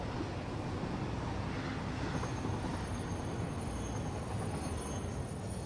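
Trains in Satisfactory rumble steadily along the rails, a dense continuous roar of wheels and carriages with a faint high squeal of brakes running through it.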